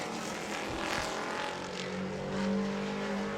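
Pro trucks race around a short oval track at Auburndale during qualifying, their engines a steady, loud drone with a rising whine as one passes near.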